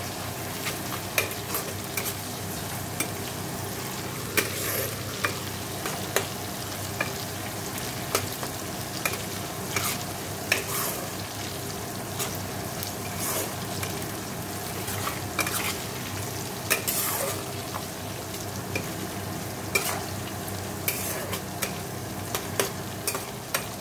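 Onions fry in oil with tempered spices for a home-style chicken curry, giving a steady close sizzle with frequent sharp clinks and scrapes of a spatula stirring against the pan, and no voices.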